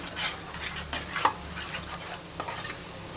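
Fish curry sizzles in hot oil in a pan while a spoon stirs it, giving close, steady frying hiss broken by repeated soft scraping strokes.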